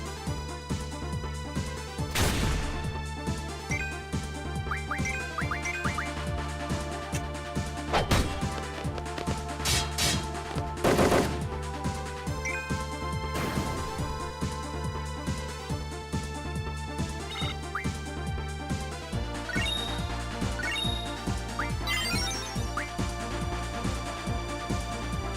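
Final Fantasy VIII battle music plays loud and continuous with driving percussion, synth melody and a few sharp crash hits throughout.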